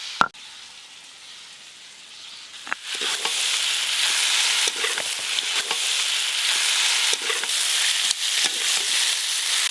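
Desi chicken curry frying in a wok, a steady close hiss and sizzle that swells after a few seconds and continues throughout, with scattered stirring scrapes and clicks and no talking.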